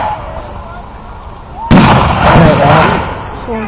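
A loud gunfire blast at a WW2 reenactment, one sharp close report that rings out and rolls on for over a second, with voices around it.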